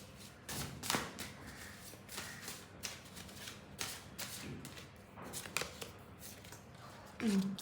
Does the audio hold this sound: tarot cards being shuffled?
yes